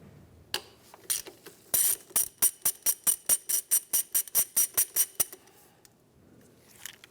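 A ratchet backs out the 8 mm bolts on the power steering pressure line of a 2003-2011 Honda Element: a long, steady run of evenly spaced sharp clicks, close and clear, with nothing else over it.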